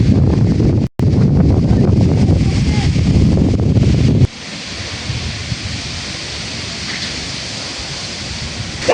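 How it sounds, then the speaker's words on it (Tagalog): A strong wind roars steadily and loudly into the microphone outdoors by a cooking area, then eases to a softer, continuous rush partway through. "Baka lalo pong lumakas yung hangin."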